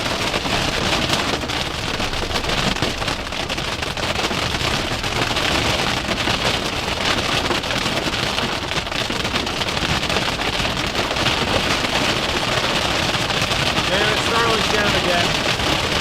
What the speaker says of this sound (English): This storm ain't here to play.